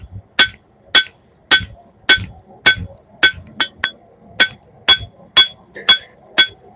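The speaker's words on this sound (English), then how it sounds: "Have to forge a little bit more on that side." Hammer blows on a steel sword blade at the forge, drawing out the bevels: a steady series of about a dozen sharp, ringing metallic strikes roughly every half second, close and loud, with no talk between them.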